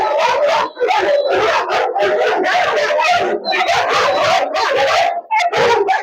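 A big male dog, already tired, keeps up nearly continuous loud, close barking and howling with a few whimpering yips while someone speaks beside it.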